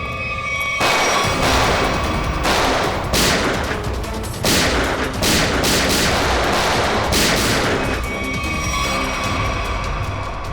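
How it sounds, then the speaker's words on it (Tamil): Heavy gunfire in a TV crime drama, with sustained rapid bursts like machine guns and dense volleys rattling loud and close for about ten seconds, with brief lulls between barrages. "இவ்வளோ நேரம் குண்டு மலை பொழிஞ்சிட்டு இப்போ சைலண்டா இருக்கானுங்க."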